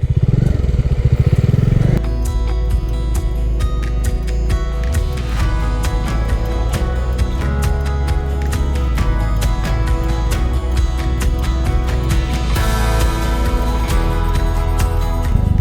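A Bajaj Dominar motorcycle rides along a hill road between Bhutan and India, its engine a loud, continuous drone with rattling and clatter from the ride throughout.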